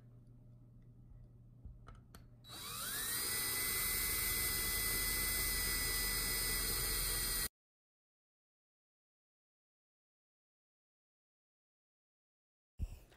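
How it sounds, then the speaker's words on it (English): A drill bores a pilot hole into a metal door while a mudroom is being redone. It whines loudly and steadily for about five seconds, then cuts off into silence, with a short knock at the very end. "So he's pre-drilling into this metal door."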